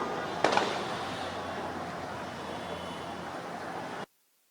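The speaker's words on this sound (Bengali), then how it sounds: "গুলির আওয়াজ পাচ্ছি এবং এক ধরনের ধাওয়া পাল্টা ধাওয়ার মতো পরিস্থিতি আছে" Gunshots ring out during a street clash between protesting students and police in Mohakhali, Dhaka: two quick sharp bangs close together near the start, then a steady wash of street noise.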